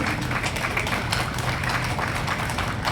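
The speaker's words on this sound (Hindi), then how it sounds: "आप संकल्पित हो तो मुझे ताली बजा के एहसास कराइए।" An audience applauds at a Hindi poetry recital in Fatehpur, with a dense, steady wash of many hands clapping together that stays close and even throughout.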